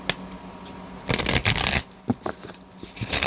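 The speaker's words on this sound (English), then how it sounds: "Let me just shuffle this one more time." Playing cards are riffled and shuffled up close, with a crisp fluttering burst followed by lighter taps and card rustles; no talking.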